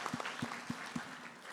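A church congregation claps together in a steady, even rhythm, a dense and moderately distant patter of many hands.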